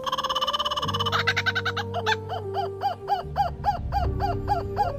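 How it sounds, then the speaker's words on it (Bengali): A laughing kookaburra cackles in a rising, rhythmic run of repeated hooting bursts, loud and near, with a steady hum underneath. "নাম্বার 1, লাফিং কোকাবুরা। এই পাখির আওয়াজ এমনই মনে হবে কোনো ডাইনি হাসছে"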